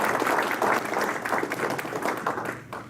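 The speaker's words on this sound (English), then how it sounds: "I just want to give a round of applause to Dave and his crew again." Audience applause at an Agile conference talk, a full, dense round of clapping from a seated crowd that holds steady for a few seconds before starting to taper off.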